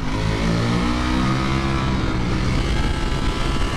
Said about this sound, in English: you actually really get a chance to open up a 200 horsepower bike